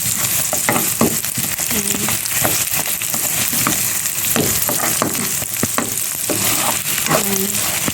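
Garlic sautéing in oil with okra for a stir-fried tofu and water spinach dish, a steady close sizzle and crackle with occasional stirring scrapes throughout.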